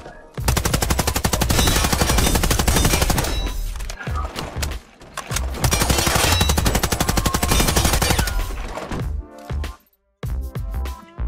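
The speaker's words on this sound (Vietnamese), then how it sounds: "xem nó có nghe được cái tiếng súng hay là không nha." Machine gun fire in an online shooter game, long sustained automatic bursts of rapid loud shots with short pauses between them, close and dense, trailing into a few scattered final shots.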